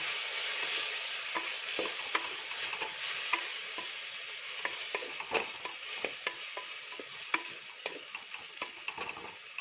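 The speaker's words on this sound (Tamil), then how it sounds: "நறுக்கி வச்ச கீரையை அதில் போட்டுக்கிட்டு ஒரு வதக்கிக்கலாம்" Manathakkali greens sizzle and crackle steadily in a hot frying pan, with frequent scraping and tapping of a spatula stirring them, close up and continuous.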